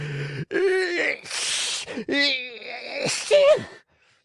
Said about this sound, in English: Two loud sneezes finished his speech.